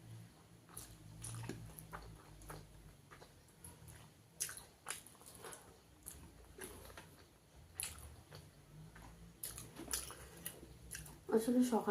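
Chicken curry in red gravy being eaten with rice: close, wet chewing and biting with soft crunches, intermittent throughout, with someone talking between mouthfuls.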